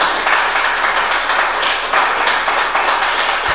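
Dense, steady applause from a church congregation, continuous clapping filling the space at a fairly loud level throughout.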